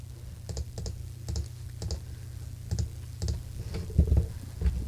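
Keys clack on a computer keyboard during a Minecraft session, a close sequence of separate taps and short bursts with uneven gaps, crisp and fairly loud, including repeated presses like backspacing.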